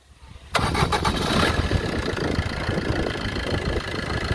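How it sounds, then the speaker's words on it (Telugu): A 2019 Maruti S-Cross diesel engine cranks and catches after a short quiet moment, then settles into a loud, even idle with a steady clatter that carries on to the end. "ఒకసారి ఇంజిన్ స్టార్ట్ చేస్తున్నాడు"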